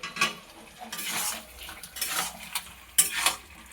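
A metal lid is set over a pot of jackfruit curry with potatoes, giving a few sharp clanks and scrapes at close range between softer clinks of cookware, and no one speaks.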